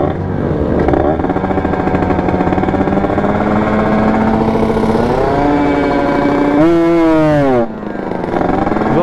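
A Yamaha RX-King two-stroke motorcycle engine revs loud and close, holding a steady buzzing roar, then climbing sharply near the end before easing off.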